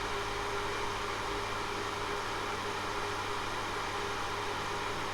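A 100 mm exhaust fan runs with a steady, even broadband whoosh and a faint low hum, constant throughout with no talking.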